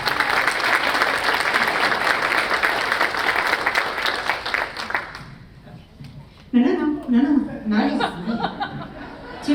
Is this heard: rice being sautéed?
no